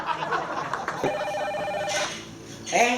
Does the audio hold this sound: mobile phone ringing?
yes